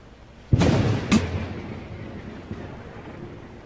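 Thunder from a lightning strike hits with a sharp crack, a second burst follows a moment later, then a low rumble fades out over a few seconds.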